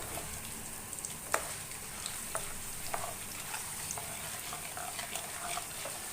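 Chana dal roasts in a pan for avarebele uppittu, a steady soft sizzle with occasional light ticks and scrapes from stirring, close and fairly quiet.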